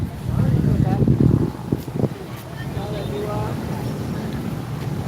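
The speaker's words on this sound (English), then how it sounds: "It's a little windy today." Wind buffets the microphone with low rumbling gusts, loudest at first, while people talk outdoors at sunset in Nha Trang, Vietnam.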